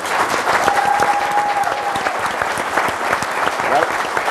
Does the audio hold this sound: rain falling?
no